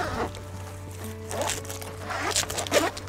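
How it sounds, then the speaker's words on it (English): Zippers on an MDC Jackson camper trailer's canvas are pulled closed in a few quick, rasping strokes, close and fairly loud, with no talking. "Simply do your zippers up."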